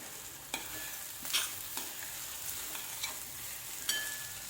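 Thecha chili relish being sautéed in a pan: a soft, steady sizzle with occasional scraping stirs of the spatula, quiet and close.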